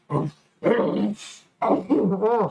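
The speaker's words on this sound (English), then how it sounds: "It's the sound of the boar." Close, harsh wild boar vocalizations in three bursts, grunting and squealing with growly, throaty texture, separated by brief pauses.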